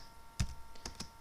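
A handful of quick, close keystrokes on a computer keyboard, irregularly spaced clicks over a quiet background hum.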